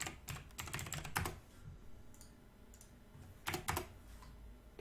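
Bursts of computer keyboard typing, clustered quick keystrokes near the start and again toward the end with a quiet gap between, close and clear with no voices.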